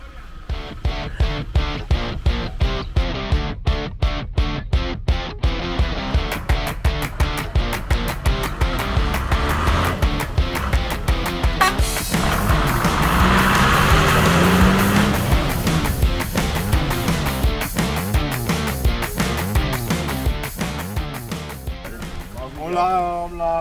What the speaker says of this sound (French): Ils veulent que tu les sors du fossé avec ton camion.